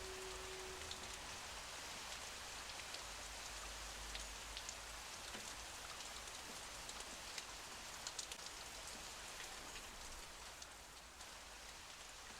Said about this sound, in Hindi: सारे मिस्र में बारिश हो रही है